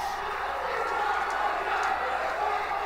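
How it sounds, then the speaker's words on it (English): A wrestling crowd at a tag-team match cheers and calls out in a steady, fairly distant roar beneath an announcer's commentary. "The crowd calling for one more."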